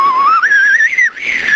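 A person whistles to imitate a fisherman whistling after a big catch: one continuous, wavering melodic whistle that slides upward, dips briefly, then resumes, loud and close, with no talking.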